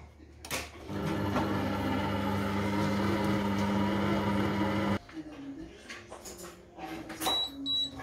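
A Compact Cook Platinum multicooker runs at 100 degrees on speed 2 while cooking beef curry, giving a steady loud motor hum with a mechanical whir for about four seconds before cutting off, followed by quieter handling noises.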